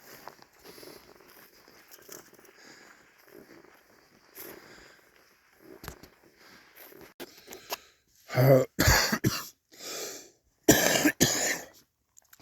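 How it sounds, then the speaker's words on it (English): Several harsh, close coughs in two bursts near the end, following quieter rustling and movement of a hiker on the Arizona Trail, with no talking. "I've had that cough now for like 3 or 4 days."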